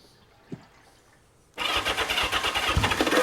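A 1970s Honda or Kawasaki four-cylinder motorcycle engine catches after a faint thump and settles into a loud, steady, slightly uneven idle close by.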